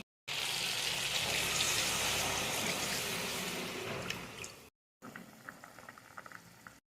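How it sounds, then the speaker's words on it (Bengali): Water is poured into a hot pan of hilsa fish and potato curry, setting off a loud, rushing boil and hiss for several seconds, then a short pause before quieter bubbling resumes. "এবার জল দিয়ে দেবো আমি।"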